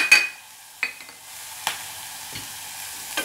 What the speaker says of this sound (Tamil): வைத்த இந்த மசாலா பொருட்களையும் போட்டு நல்லா கிளறணும்.